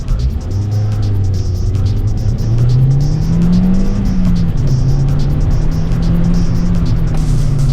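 A Toyota Yaris accelerates hard through a timed auto test course in stormy weather, its engine note climbing and falling steadily and loudly throughout, with tyre noise and wind beneath.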